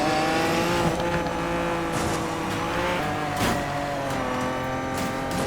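A Lamborghini Diablo drives in the video game Need for Speed Payback, its engine holding a loud, steady high-revving drone with shifting tones and brief tire noise throughout.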